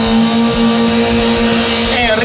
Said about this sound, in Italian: Intanto il sound del motore del Delta di Enrico Scatolò.